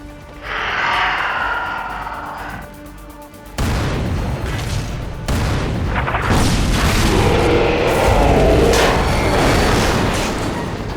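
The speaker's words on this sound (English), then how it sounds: "The combined fire from the artillery and the other Rogel Dorn deals significant damage to the Lich Guard" Tabletop battle sound effects of artillery fire during a Warhammer 40k Astra Militarum versus Necrons battle: a sustained, loud barrage of heavy booms and rumbling blasts with sudden shifts in intensity, no talking over it.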